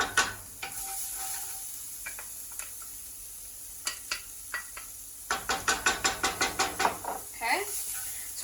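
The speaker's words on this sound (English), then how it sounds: "So we're just gonna cook the garlic." Five garlic cloves cooking with a whole onion in a pan give a steady sizzle, with scattered stirring clicks that speed up into a rapid run of scraping taps near the end.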